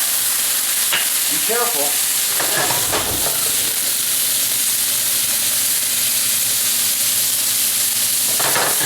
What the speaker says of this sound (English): And the brandy goes right in.